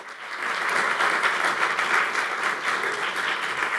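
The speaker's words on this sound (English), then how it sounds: "Another a round of applause for Corbin Murdoch" Audience applause at a memorial lecture hall event, a sustained even wash of many hands clapping, fairly close and loud, rising quickly and holding steady.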